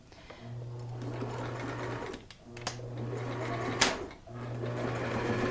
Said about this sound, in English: we're going to stitch that together with a straight stitch